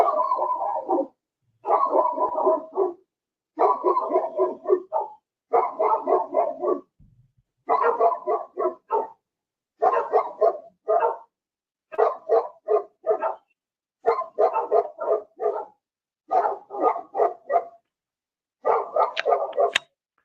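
Two dogs bark repeatedly in rapid bursts of several barks each, separated by short pauses, loud and close, continuing steadily with no other sounds.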